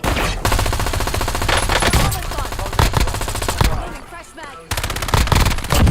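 Rapid machine gun fire rattles through a video game match in dense, loud bursts with brief gaps, while a voice speaks briefly over the shooting.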